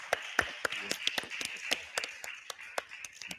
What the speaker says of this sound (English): let's give a great big round of applause for the commandments